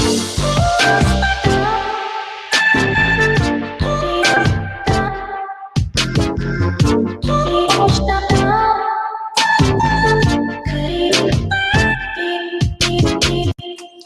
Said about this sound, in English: And now when I turn on the compressor, you'll notice it pumps it a little bit